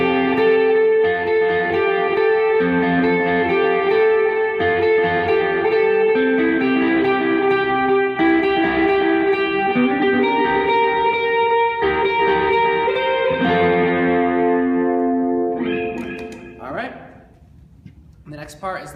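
An electric guitar plays sustained chords through delay and reverb, then with overdrive, a dense continuous ringing tone that fades out near the end into decaying echoes.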